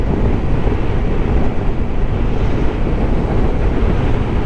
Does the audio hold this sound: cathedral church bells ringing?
no